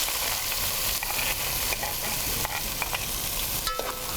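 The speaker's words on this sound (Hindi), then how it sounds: "ये जो प्याज चॉप करके रखी थी ये डालूंगी इसमें" Chopped onions sizzle loudly in hot cooking oil, a dense continuous crackling hiss close to the pan with occasional stirring knocks and no talking.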